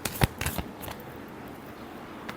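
Tarot cards shuffle in a few quick riffling bursts, close and crisp, then a faint tap as the deck settles; no voices.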